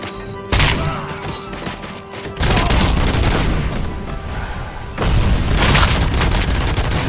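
Heavy gunfire and booming explosion effects from the video game RoboCop: Rogue City, loud and dense throughout, with bursts of shots and blasts swelling at intervals and no talk.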